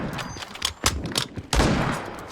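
Shots in the Turkish-made first-person shooter Sabotaj, played in AWP sniper mode; several sharp, loud reports land in quick succession, with the last and heaviest blast ringing out near the end.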